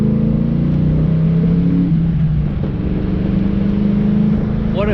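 A vehicle engine revving and pulling away from a New Edge Ford Mustang convertible repair setting, a loud close rumble rising in pitch then settling into a steady drone.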